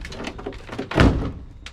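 A door on an old velvet green Volkswagen bus is shut with a single solid thunk, close and fairly loud, amid low background noise.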